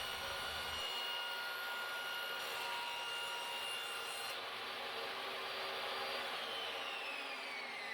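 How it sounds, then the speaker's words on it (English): Saw ripping a wooden wall cabinet panel to size in a workshop: a steady, continuous whining and rasping cut that runs unbroken at even loudness throughout, with no talk. "Then I need to rip the inner panel down to size."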